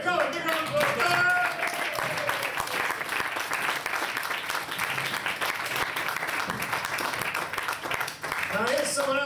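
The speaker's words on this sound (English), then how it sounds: "come on, big round of applause." Audience at a poetry performance giving a big round of applause, sustained dense clapping with some cheers, with a voice talking over it near the start and again at the end.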